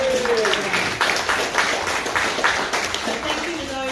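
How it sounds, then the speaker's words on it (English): Audience applause for ukulele players at a community ukulele session, steady scattered clapping of moderate loudness with a voice speaking over it. "And so I'd like to give them a big clap"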